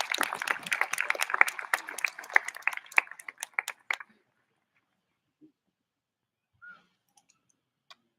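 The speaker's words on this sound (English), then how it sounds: "Let's give her a big round of applause." Audience applause at a middle school graduation ceremony, a dense burst of clapping for about four seconds that quickly thins out and stops, followed by near silence with a few faint scattered sounds.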